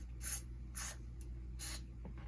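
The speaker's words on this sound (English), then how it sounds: "I just use this finish line product, but honestly, I don't think that this is the end all be all. But I just spray the stuff inside here" Finish Line lubricant sprays into a Shimano Dura-Ace 7800 shifter mechanism in three short hissing aerosol bursts with a brief tap between them, close and fairly quiet.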